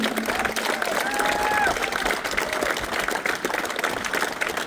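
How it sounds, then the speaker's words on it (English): A crowd applauds and cheers at a street car weekend event, with clapping mixed with scattered shouts and voices, plus a faint whistle-like tone rising briefly in the middle. "So, big applause to everyone involved in it."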